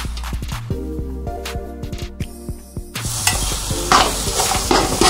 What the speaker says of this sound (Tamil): நம்ம இந்த மீல் மேக்கரை போட்டுடலாம் ஒரு ரெண்டு நிமிஷத்துக்கு சாட்டே பண்ணலாம்